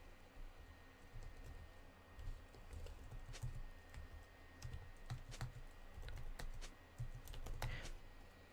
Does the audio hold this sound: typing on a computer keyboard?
yes